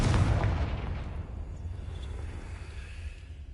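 Spell explosion from the video game Hogwarts Legacy: a loud booming blast opens, then a low rumbling tail that fades slowly, with no voices.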